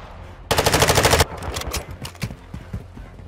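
Rapid automatic gunfire bursts loudly from a Call of Duty Modern Warfare 2 ranked hardpoint match, a dense sustained volley for under a second followed by scattered shots and game effects.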